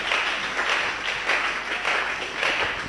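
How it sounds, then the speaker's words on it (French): A church congregation applauds loudly in praise of the Lord Jesus, dense sustained clapping filling the whole stretch with slight swells, no voices on top. "Acclamez très fort pour le Seigneur Jésus."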